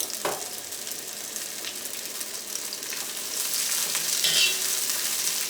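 Carrots sautéing in hot oil in a pan for pickle, giving a steady bright sizzle with occasional stirring scrapes, close and alone without voices.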